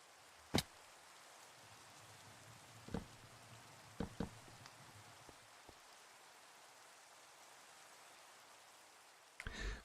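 Rain in a video game: a faint, steady hiss of falling rain throughout, broken by a few sharp clicks and knocks.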